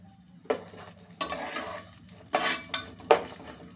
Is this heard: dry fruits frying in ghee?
yes